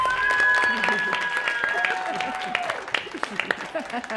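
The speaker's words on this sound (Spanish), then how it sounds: "Un aplausote" Studio audience applause fills the first seconds, a dense steady clapping that thins into scattered claps toward the end while voices talk over it.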